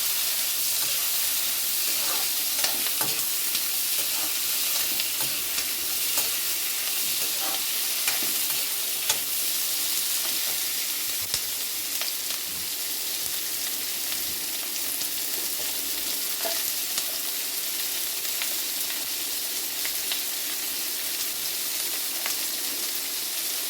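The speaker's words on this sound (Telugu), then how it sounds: "ఉల్లిగడ్డ వేస్తానండి." Large-cut onions frying in hot oil in a pan and being stirred now and then, with a dense, continuous sizzle and scattered crackles and scrapes over a long stretch, close and steady with no talking.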